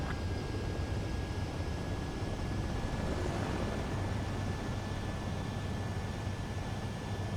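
A fighter jet comes in for a landing in Ace Combat 7, with a steady, loud engine roar and a thin high whine that hold evenly throughout, with no voices heard.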